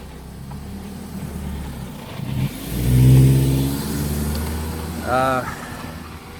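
A car passes by on a street during a walk with dogs, engine swelling loud and near then fading, with a second engine surge near the end and a person talking over it.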